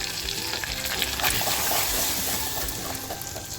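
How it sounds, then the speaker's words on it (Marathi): Homemade masala hits a hot clay pot and sizzles loudly, a dense continuous frying hiss with stirring crackle, close up and steady throughout. "मातीची हंडी छान गरम झाली त्याच्यामध्ये अगोदर आपल्याला आपला जो घरगुती मसाला आहे तो टाकून घ्यायचा आहे"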